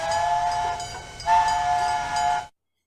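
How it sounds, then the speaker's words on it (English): A train pulls out of a station, a steady rolling rumble with a sustained whistle-like hiss and tone that swells midway, then cuts off abruptly. "Soon, the train finally began moving out of the station and into the beautiful,"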